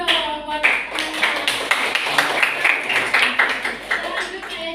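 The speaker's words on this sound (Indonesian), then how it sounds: "kasih tepuk tangan dulu dong buat teman-teman" Classmates in a classroom clap together in a steady patter of many hands, fairly close and lively, for a few seconds with some voices mixed in.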